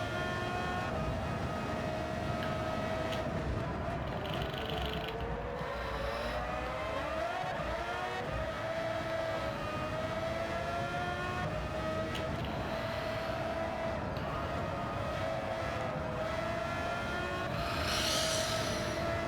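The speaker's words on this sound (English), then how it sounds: "Rev limiter." Race car engine held on the rev limiter in Gran Turismo 7 during an online Nations Cup qualifier, a steady buzzing engine drone at a chicane that stays loud and continuous throughout.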